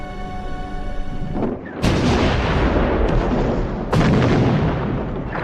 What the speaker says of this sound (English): The heavy artillery made the Bulgarians crawl deep into their shelters.